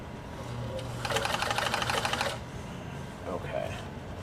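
A Decora 950 B sewing machine stitching a buttonhole, a fast, even rattling run of stitches for about a second and a half, close, with a softer hum and someone speaking around it.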